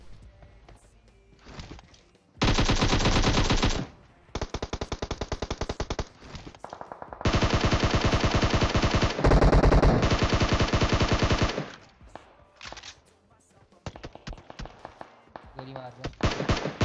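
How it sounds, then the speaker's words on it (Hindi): Gunfire in the PUBG Mobile video game comes in bursts of rapid automatic fire and scattered single shots, loud and close, over steady in-game background noise. "गोली मार रहा"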